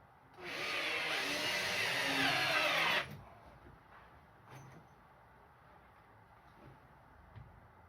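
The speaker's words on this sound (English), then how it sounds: "So I'm going to put my first screw in now." A power drill drives a screw into plasterboard inside a vocal booth, a single loud, steady whir lasting about two and a half seconds, then stopping and leaving faint room noise with a couple of small knocks.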